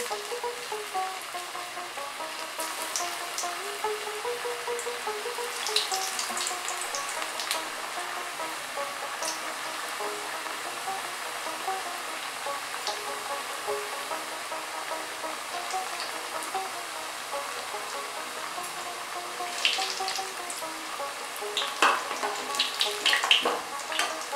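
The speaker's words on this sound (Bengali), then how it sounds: "এবার একটা একটা করে কচুরিগুলো ভাজতে দেব" Kachoris stuffed with cauliflower deep-fry in hot oil over a lowered gas flame, giving a steady, continuous bubbling hiss with occasional louder crackles and brief clinks near the end.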